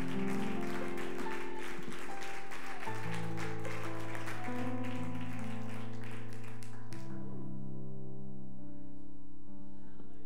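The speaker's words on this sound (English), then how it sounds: "Let's continue that hand clap to the Lord tonight." A church congregation claps steadily through the first seven seconds under sustained organ or keyboard chords. The applause stops and the music holds on alone.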